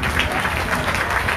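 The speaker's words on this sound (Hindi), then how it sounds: "उनके जोरदार तालियां।" Brief burst of audience applause during a Srimad Bhagwat saptah religious gathering in Baraut, with dense, steady clapping from a crowd and a few voices mixed in.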